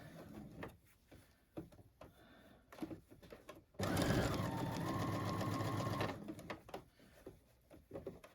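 Electric sewing machine running close by in one steady burst of about two seconds as fabric passes under the presser foot and gathers into pleats on a small boy's shirt, with quieter handling noises before and after.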